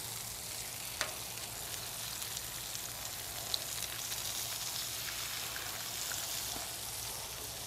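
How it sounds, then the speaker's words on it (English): Eggs fry on the cooler side of a Blackstone griddle, a soft, even sizzle that hisses steadily throughout, with a couple of faint taps and no talking. "over on the cooler side, you're gonna crack three eggs and keep them kind of together"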